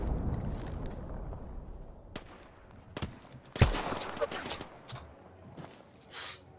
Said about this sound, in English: Nice pop shots with that G7 from Kataguru.